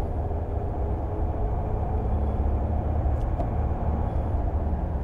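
Steady, close diesel drone from a 2009 Mercedes E320 Bluetec with a boost problem, the engine note holding even and continuous as it moves up through the gears, with no distinct shift breaks standing out.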